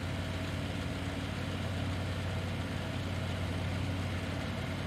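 A farm vehicle engine running in Farming Simulator 19, a steady droning idle with a low throbbing hum that holds constant throughout, close and unbroken.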